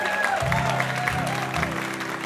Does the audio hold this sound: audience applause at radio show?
yes